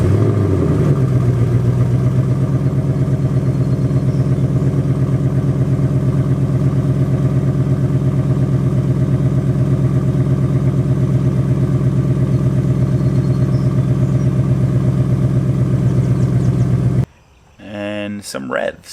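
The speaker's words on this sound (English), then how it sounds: "So I'm gonna show you another quick cold start." V8 car engine on a cold start, a steady close idle rumble with an even low throb for most of the stretch, cutting out near the end where a brief voice is heard.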